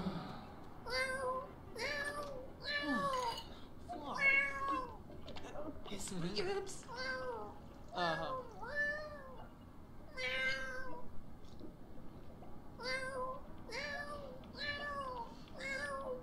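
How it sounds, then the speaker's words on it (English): A cat in the video game The Sims 4 meows repeatedly in short bursts, several clear cries in a row, pausing briefly before another run of meows near the end, with faint clicking underneath. "So I wonder what's wrong with the kitty."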